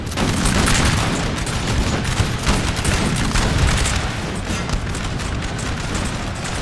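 Musket volleys crackle in a Napoleon: Total War battle, a dense, loud fusillade of overlapping shots and booms that rolls on steadily without a break.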